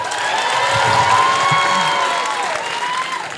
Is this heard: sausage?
no